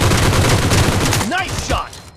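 Gunshots crack in PUBG Mobile, a quick burst of loud close shots that cuts off into a short fading tail.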